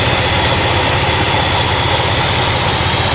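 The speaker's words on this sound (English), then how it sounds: "in a cold start, this thing is running pretty smooth" A Dodge Charger engine idling after a cold start, a loud, steady low rumble with even pulsing and no talk.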